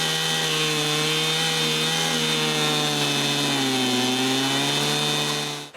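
Chainsaw running steadily through a log guided by a homemade wooden chainsaw mill, a loud continuous engine whine with a strong buzzing tone that dips slightly midway as the cut loads the saw, held close for about six seconds.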